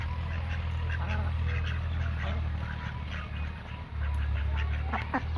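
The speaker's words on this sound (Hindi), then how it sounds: "फातिमा ने बतखों को दाने जो है वो डालना शुरू कर दिए और बतखें सारी इकट्ठी होकर आ गई।" A flock of ducks quacks and calls as they gather for scattered grain, their voices overlapping up close against steady low background rumble.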